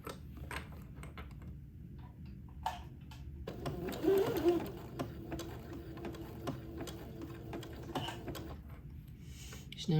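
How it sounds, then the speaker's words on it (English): A sewing machine zigzag-stitches lace onto an entredeux ladder for a baby layette, running in a steady close whirring hum with light mechanical clatter and a few brief pauses and taps. "I will zigzag this lace to the entredeux ladder."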